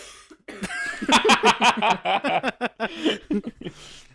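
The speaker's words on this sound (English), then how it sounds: "You need to cough. You can cough." A person coughs in a rapid series of harsh bursts, close and loud, ending with a short throat-clearing sound.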